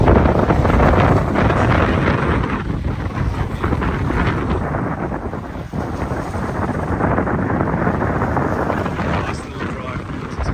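Breezy wind by a small bay in Pensacola buffets the microphone in a loud, steady rumbling roar that swells and eases slightly throughout.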